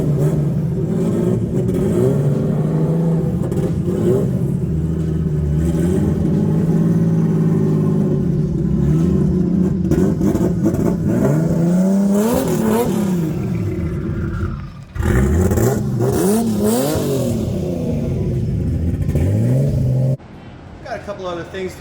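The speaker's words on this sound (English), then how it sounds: "I really want to hear what that exhaust sounds like without that rear section" Toyota FRS/Subaru BRZ exhaust with the rear section removed, revving loudly and continuously with rising and falling sweeps, held near and steady before a brief dip and a final drop-off.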